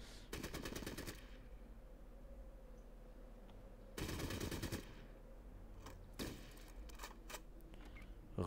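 Gunfire in the video game Fallout Tactics comes as rapid automatic bursts, a long rattling volley, a second burst after a pause and a few short shots, fairly faint.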